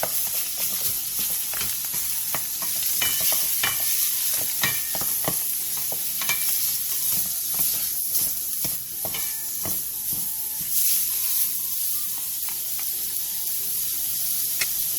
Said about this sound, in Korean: 돼지고기 앞다리살 400g과 다진 마늘 반 스푼을 넣고 센 불에서 고기의 겉면이 반 정도 익을 때까지 빠르게 볶아주세요